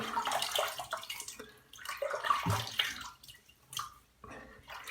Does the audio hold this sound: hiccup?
no